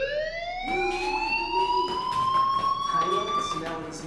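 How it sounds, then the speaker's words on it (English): A fire alarm sounding in a video game, a loud wailing electronic tone sweeping slowly upward and holding steady, with a person talking over it in bursts. "do you hear that fire alarm? That means you should be outside."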